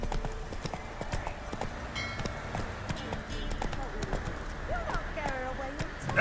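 Roach the horse trots through Witcher 3 with a brisk, steady clip-clop of hooves that carries on throughout. Voices and game sounds come and go over the hoofbeats.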